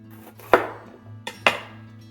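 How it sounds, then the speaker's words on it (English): Small sweet peppers are chopped on a board with a knife, giving three sharp, close chops spaced unevenly over a low steady hum. "I love these little peppers because they don't have as many seeds. Makes it so easy to chop up."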